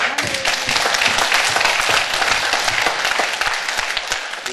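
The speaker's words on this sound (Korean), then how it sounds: "하나님께 영광의 박수 드리시겠습니다" A church congregation at a Sunday worship service bursts into loud, dense applause, many hands clapping steadily and evenly throughout before easing slightly at the end.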